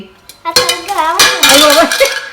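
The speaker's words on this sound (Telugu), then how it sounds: "ఇప్పుడు గిన్నె కడుతున్నావా" A child is washing dishes nearby, and steel pots and vessels clatter and clank together in loud, ringing knocks that overlap quickly for a couple of seconds.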